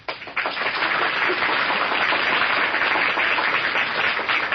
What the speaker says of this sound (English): give the cast the volume of applause they deserve